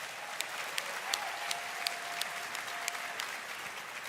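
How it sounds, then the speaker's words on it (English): An audience at a live presentation claps in a sustained round of applause, a dense, even patter of many hands with a few louder individual claps. "Can I get a round of applause for our devoted creators of assets and tools?"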